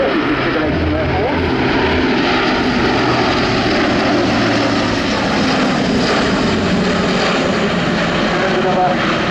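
An Airbus A400M Atlas turboprop transport in a flying display at an airshow, descending with undercarriage down: a loud, steady propeller and engine roar filling the air throughout, with a commentator talking over it.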